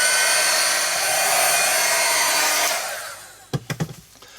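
A hair dryer blows steadily up close to dry wet paint on an art piece, a loud continuous whoosh that cuts off near the end, followed by a few soft knocks.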